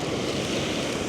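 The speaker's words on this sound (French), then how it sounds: "Et les grosses vagues." Big ocean waves breaking on a beach under a red-flag warning, a steady close roar of surf with wind buffeting the microphone and no talk.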